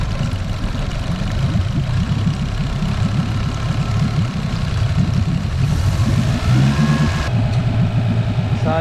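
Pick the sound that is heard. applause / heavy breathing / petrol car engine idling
petrol car engine idling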